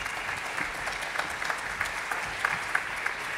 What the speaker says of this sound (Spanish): Mincho Garramone, ahora sí, aplausos.